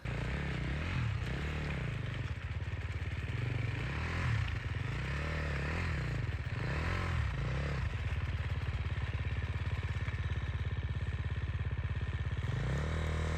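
An enduro motorcycle grinds through deep snow on a mountain in the Sawtooth area, its engine droning steadily and rising and falling in repeated surges over constant wind noise.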